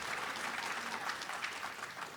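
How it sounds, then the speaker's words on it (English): Steady audience applause at a real estate marketing panel, a dense, even wash of clapping hands running throughout, moderately loud and without talk. "Clap it up"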